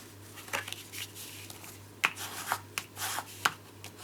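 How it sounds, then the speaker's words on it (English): A folded paper card is burnished, giving soft, close rubbing and scraping strokes with a few sharper paper rasps in an irregular rhythm over a low steady hum. "And then fold in the opposite direction and burnish it."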